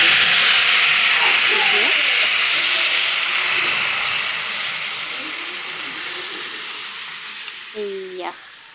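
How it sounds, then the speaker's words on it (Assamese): Dal being poured into hot oil seasoned with five-spice (panch phoron) and chillies gives a loud, steady hiss of sizzling and steam that fades slowly over several seconds, with faint clatter near the end. "মই এতিয়া দালিটো ঢালি দিম"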